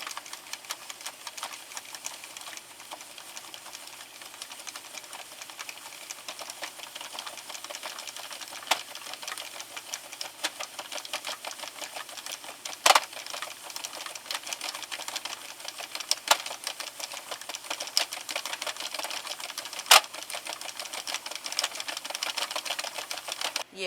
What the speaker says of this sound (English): I'm going to start cranking. Slowly at first to make sure that I don't drop any stitches.